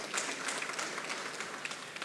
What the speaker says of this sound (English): Please, well, round of applause.